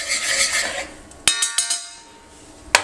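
Diced fresh apple is stirred into caramel sauce in a pan, starting with a soft rasping scrape and followed by several sharp clinks of a utensil against the pan, close and clear without voices.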